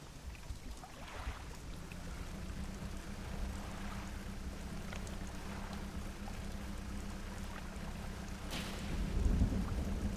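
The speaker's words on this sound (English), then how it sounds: "Oh, lightning struck." Thunder from a lightning strike in the fishing video game Dredge rumbles low beneath steady rain, with a sharper crack near the end as the rumble swells, heard without speech.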